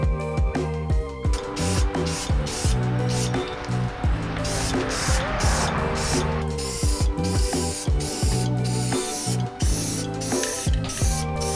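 Close, loud hissing bursts of Krylon spray paint on Lexan car windows, broken into repeated short sprays over continuous background music.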